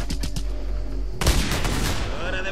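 Gunfire in Just Cause 2, a sudden loud burst of shots and an explosive boom after a stretch of steady background game noise, with a voice speaking faintly.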